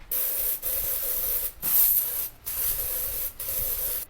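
A perfume tester spray bottle gives five hissing bursts close up, each lasting a half second to a second with brief gaps between them, and no one speaks.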